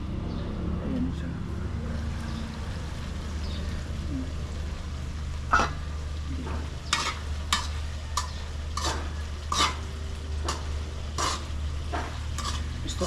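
Sardines fry in a pan over a steady low hum, with a run of sharp, regularly spaced scrapes as they are stirred, close and fairly quiet.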